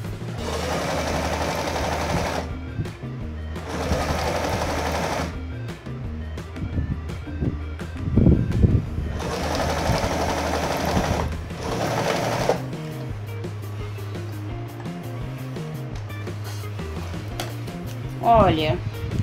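A domestic sewing machine stitches a fabric dish towel holder in rhythmic bursts, with pauses between runs and a person talking throughout.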